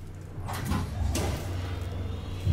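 A sliding door in the video game Alien Isolation grinds open with a steady mechanical rumble and whoosh lasting a couple of seconds, ending in a heavier thud.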